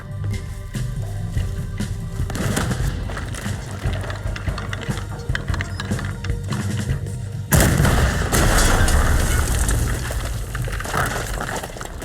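Cannon fire in the Red Dead Redemption 2 video game, heavy booming blasts and rumbling gunfire running continuously, with a sharp louder burst partway through amid battle noise.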